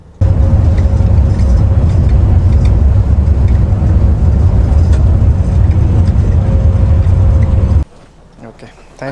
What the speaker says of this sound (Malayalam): ഇവിടെ ഒരു ബസ് കിടപ്പുണ്ട്